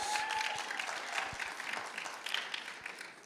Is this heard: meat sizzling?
no